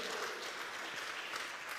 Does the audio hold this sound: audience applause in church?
yes